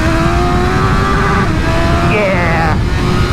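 Suzuki Katana motorcycle engine revving up hard with a rising, buzzy tone that climbs steadily and cuts off at the rev limiter, close and loud throughout.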